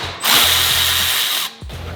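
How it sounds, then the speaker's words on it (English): A power tool, likely an impact driver, loosens the nuts on a Toyota Tacoma's clutch fan, running in one loud sustained whir of about a second and a quarter before cutting off, then giving a brief second burst. "It's just the clutch fan that we're loosening right here."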